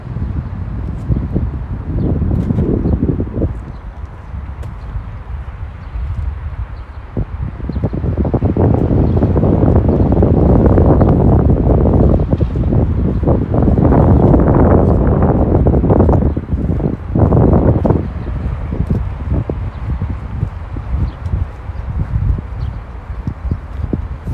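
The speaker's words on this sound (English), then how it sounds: "Wow, the wind's really shaking my Steadicam." Strong wind buffets a handheld stabilizer camera rig during an outdoor walk along the Griboyedov Canal embankment in St Petersburg, making loud, rumbling microphone roar that surges and eases in gusts, with faint footsteps beneath.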